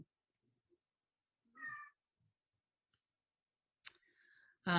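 Pet cats meowing indoors during an online meeting: a couple of short, faint meows separated by silence, then a louder, nearer meow at the very end.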